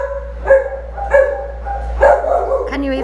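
A rescued stray dog gives several short, loud barks and yips spaced about half a second apart, close by, mixed with people speaking.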